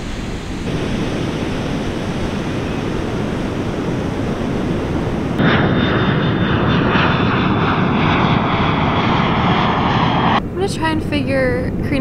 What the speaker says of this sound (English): These planes.